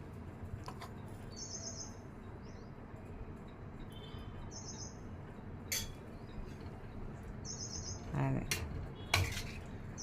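Amla and fenugreek pickle being stirred in a pot, with scattered clinks and scrapes of utensil against metal over a steady low background, while birds chirp faintly in the distance.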